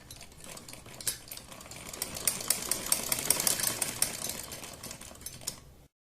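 Sewing machine stitching a strip of old saree fabric, a fast, rattling mechanical patter with sharp ticks building up in a steady run, fairly quiet and close, then stopping abruptly.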